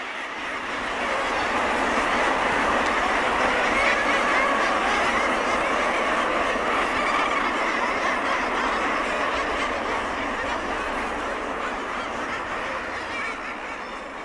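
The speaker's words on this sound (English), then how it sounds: "Other birds like these kittiwakes nest amongst the guillemots, and even puffins share the space with these noisy neighbours." A dense seabird colony of kittiwakes and guillemots on the Treshnish Islands off Scotland's west coast, a constant loud wash of overlapping cries and squawks with no single call standing out.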